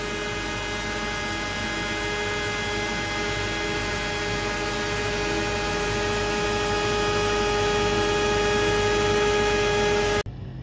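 A CNC router with a 12.6 mm straight bit makes a roughing pass in plywood for a guitar build, with a dust extractor running. A loud, steady droning whine holds throughout and cuts off abruptly near the end.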